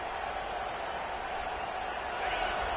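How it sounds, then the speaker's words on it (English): A full football stadium crowd at an Oklahoma versus Florida college game roars steadily. The dense, continuous wall of noise holds at a constant level, with a faint swell near the end. "This crowd, full throat, splitting the eardrums and letting them know it's going to be a long day."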